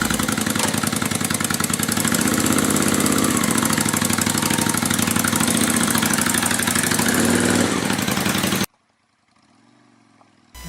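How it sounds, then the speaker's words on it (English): Honda Shadow VT600 motorcycle engine running at a steady, loud idle with a dense pulsing rumble close by, then cutting off abruptly into near silence with faint background noise. "start it up and put it in the garage for tonight"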